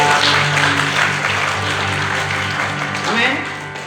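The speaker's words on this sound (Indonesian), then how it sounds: "Tepuk tangan buat Tuhan" A church congregation at a GBI service in Marike, Langkat, claps for God, a broad wash of applause blended with a droning background tone and some voices, steady then easing.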